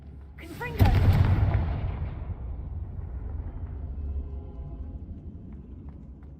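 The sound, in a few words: Confringo fire spell blast in the video game Hogwarts Legacy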